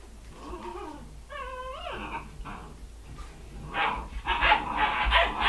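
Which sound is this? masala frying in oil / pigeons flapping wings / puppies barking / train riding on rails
puppies barking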